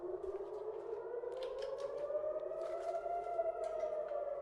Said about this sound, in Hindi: बाहर से सायरन बजी है